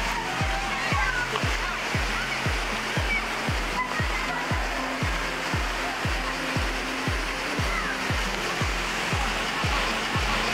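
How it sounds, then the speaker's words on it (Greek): Steady rushing river water near a Roman aqueduct at Agios Georgios, Preveza, with a broad wash of noise and a regular low thumping pulse running through it, close and continuous. "θα αφήσω να ακούγεται ο ήχος από το ποτάμι"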